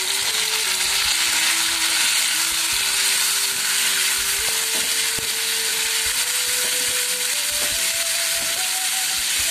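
Tomatoes frying together with already-browned onions for dum aloo, a steady loud sizzle running throughout with a faint rising tonal whine, no talk.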